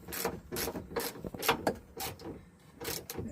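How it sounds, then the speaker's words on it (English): Nuts being tightened on the side of a Neis wagon door, heard as a close series of rhythmic ratcheting clicks in short bursts, fairly quiet with brief pauses between strokes. "then we're going to tighten 4 nuts that we just loosened on the side of each"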